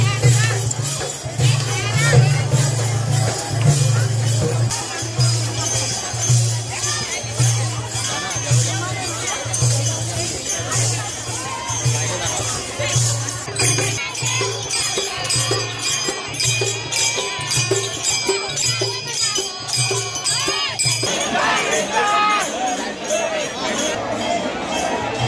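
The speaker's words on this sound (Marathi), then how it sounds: "लोक मोठ्या संख्येने या रथयात्रेला गर्दी करतात" Devotees crowd around the Vitthal chariot procession, a dense, continuous hubbub with clinking and a low steady hum, while a reporter speaks over the scene.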